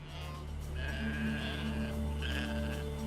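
Sheep bleat over and over, several overlapping calls from a flock rising and falling above a steady low drone, fairly faint and without talk.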